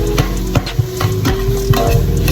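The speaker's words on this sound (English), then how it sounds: "I'm going to stir it around just a little bit" A spoon scrapes and knocks through dirty rice cooking in a pot, a few close, sharp clinks over a low steady simmer.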